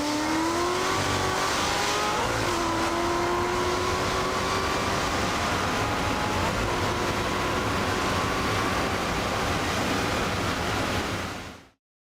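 Chevrolet Corvette C6 ZR1 with a 6.2-liter supercharged LS V8, engine droning and climbing through revs under heavy wind rush, loud and continuous before cutting off abruptly.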